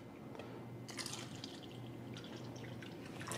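Tap water poured onto a tea bag makes a soft trickling, splashing flow that continues throughout, faint and steady with no talking.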